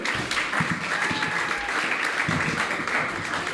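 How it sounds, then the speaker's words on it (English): Comedy-club audience applauding to welcome a comedian to the stage, a continuous even patter of many hands lasting several seconds, with faint voices underneath. "if you could please welcome him to the stage with a round of applause"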